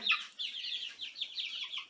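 Young, not yet fully feathered chickens in a crowded brooder keep up a continuous flurry of high, thin peeping chirps at close range, overlapping in quick succession.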